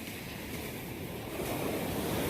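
Sea surf at a beach after a typhoon, the water churned brown, rolls as a steady continuous wash with some wind noise on the microphone, heard alone without voices.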